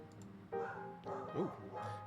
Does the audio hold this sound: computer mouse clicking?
no